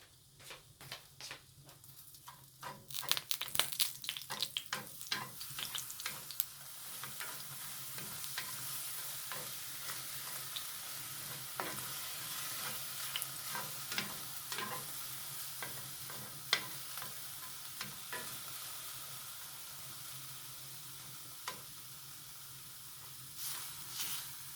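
Manwich filling sizzles and fries in hot oil in a pan while a utensil stirs it, a steady bright hiss with clattering scrapes and taps, loudest early on, then settling into continuous frying with occasional knocks.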